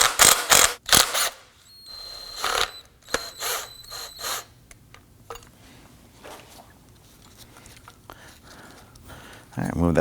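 A ratchet with a 10 mm socket loosens a bolt on the rear ABS wire bracket of a 2015-2024 Nissan Murano, giving close bursts of rapid clicking between pauses, with a voice speaking over parts of it.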